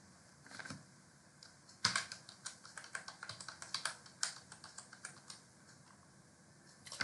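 Keys clatter on a computer keyboard as a password is typed, a quick irregular run of light clicks at close range with no talking.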